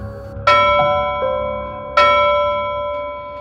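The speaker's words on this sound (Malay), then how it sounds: "Dia terdengar bunyi loceng muncul dari kegelapan malam yang dipenuhi hujan yang lebat tu." A bell rings as a sound effect in a night-time story set in heavy rain, two clear resonant strikes about a second and a half apart, each ringing out and slowly decaying, with a softer tap between them.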